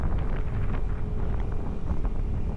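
Wind buffets the microphone in a steady low roar, with no voices.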